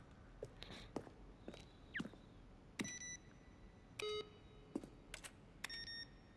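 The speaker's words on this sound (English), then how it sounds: "Button sounds." Electronic button beeps in the video game The Stanley Parable, a series of short, separate tonal bleeps at irregular intervals, some sustained briefly, over faint background clicks and footsteps.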